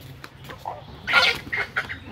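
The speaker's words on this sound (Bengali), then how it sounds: "এগুলো সব আমাদের বাড়ির দেশি মুরগি" Domestic country chickens kept at a rural Bangladeshi home cluck and squawk close by in short bursts, loudest in the middle, over faint background noise.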